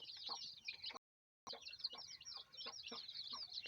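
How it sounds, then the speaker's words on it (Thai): Hybrid red junglefowl chicks, about eight days old, bred from a wild junglefowl father and a decoy-hen mother, peep in fast, high, continuous chirps close by, broken by a brief silent gap. "ลูกไก่ป่าผสม ครับ ตัวแม่เป็น ไก่ต่อครับสายนับดอกครับ"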